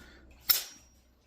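A Savage Axis rifle trigger with an upgraded MCarbo spring breaks during a digital trigger pull test, giving a single sharp, close metallic snap that fades quickly in a quiet room.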